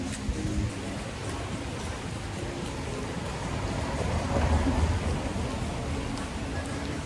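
Rain falling on a first day in Yucatan, Mexico gives a steady, dense hiss of drops on surfaces, moderately close, continuous throughout with no clear voices.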